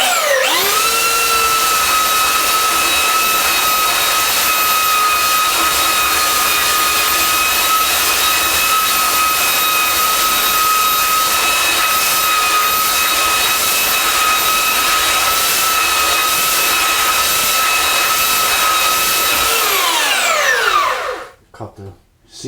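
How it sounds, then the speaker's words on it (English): A belt sander fitted with a rough belt runs loud and close on a wood test piece, sanding with the grain in a steady whining drone for about twenty seconds before spinning down and stopping. "I'm just going to sand with the grain, with the rough belt."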